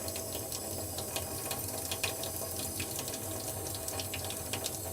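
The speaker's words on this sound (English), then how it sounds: "If possible, use your towel to turn off the faucet." A faucet runs steadily into a sink during hand washing for protective equipment removal, a continuous hissing splash at close range with no voices.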